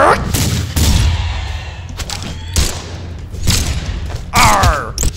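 Gunfire from weapons in the video game Brawlhalla sounds as several loud, sharp bursts and thumps spread across a few seconds, mixed with other game effects.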